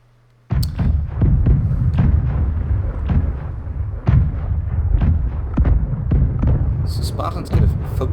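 Repeated ship cannon chain shots fire in a Blackwake naval battle between a cutter, schooner and carrack, a dense run of heavy booming blasts close together across the whole stretch, loud and near, with rumble between shots.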